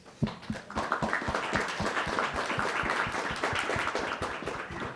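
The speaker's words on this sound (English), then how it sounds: "I want to give a huge thank you and a huge round of applause, please, for our panelists" A panel session's audience applauds the panelists, a steady run of dense clapping close by that holds for several seconds without speech.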